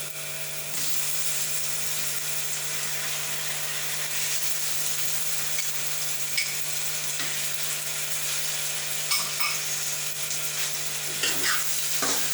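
Tomatoes frying in a pan with spinach and egg, producing a steady bright sizzle close by with occasional stirring clinks and scrapes and a low hum underneath.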